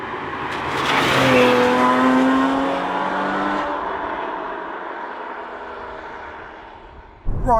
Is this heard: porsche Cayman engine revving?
yes